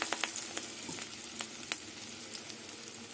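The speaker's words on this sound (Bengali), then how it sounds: "এইভাবে বড়াগুলো ভাজবো" Flattened gima leaf fritters fry in oil with a soft, crackling sizzle, scattered with small pops and light stirring clicks, quiet and close, with no voices.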